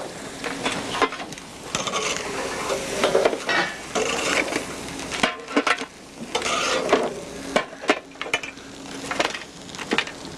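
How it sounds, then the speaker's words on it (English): Lobster meat searing in a hot pan, with a steady sizzle broken by scraping and clattering as the pieces are moved and stirred, close and fairly loud throughout. "I cook the lobster, the meat down first, we want to sear these flavors inside"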